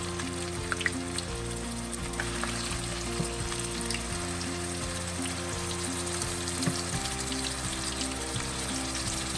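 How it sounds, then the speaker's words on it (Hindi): Onions frying in hot oil in a kadai for spiced moong dal, a steady close sizzle running without pause over a low background hum, with no voices. "तेल गर्म हो गया। अब हम इसमें प्याज शामिल कर देंगे।"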